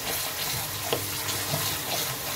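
Fish curry frying in oil with a fenugreek tempering, a steady close sizzle with a few soft stirring clinks, no talk.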